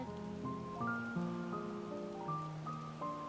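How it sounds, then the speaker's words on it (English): Steady rain falls in Final Fantasy XIV, a soft continuous patter beneath a melodic musical score with sustained tones, no voices present. "It's raining."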